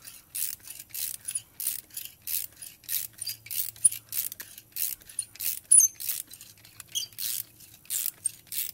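Lag screws with galvanized flat washers being driven into a deck post base, heard as a steady run of short, rhythmic ratcheting clicks, close and fairly quiet, with no talking.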